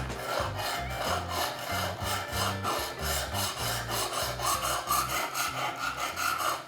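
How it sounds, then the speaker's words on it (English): Knife blade stroked back and forth on a sharpener set to 20 degrees, a steady run of rhythmic grinding rasps that stays close and loud throughout, with no talk. "so I'll adjust it to 20 degrees and start sharpening"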